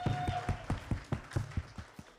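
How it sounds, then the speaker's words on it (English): Scattered hand clapping from an audience at a Jain community celebration of Mahavir Janma Kalyanak, a fairly steady patter of distinct claps at moderate volume with a faint sustained tone running underneath. "Please a big round of applause for Manish Bhai."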